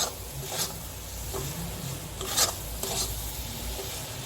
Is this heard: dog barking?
no